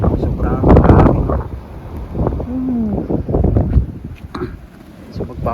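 Strong wind gusting in a snowstorm, buffeting a nearby microphone in loud, uneven bursts, with voices talking over it.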